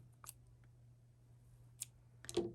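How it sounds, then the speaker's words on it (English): Scissors snip a length of yarn while crocheting a small toy hen, a few faint, close clicks and a short cutting sound near the end, in a quiet room. "We'll cut enough yarn to sew it to his face."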